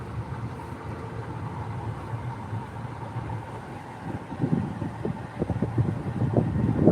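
Wind blowing along the seashore beside a fish market in Kuwait, a steady rushing roar with low buffeting gusts that grow stronger toward the end, with no voices.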